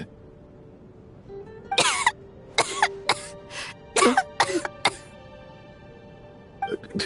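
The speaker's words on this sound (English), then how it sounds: "How long have you had that cough, Tonya?" A Genshin Impact character coughing in a series of harsh, wet bursts, some grouped in quick pairs, over a quiet soft musical background, with a pause before a final short cough.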